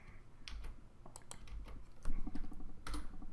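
Computer keyboard keys clatter in short uneven bursts while code is cut and pasted, close and fairly quiet, with soft clicks scattered between the runs of typing.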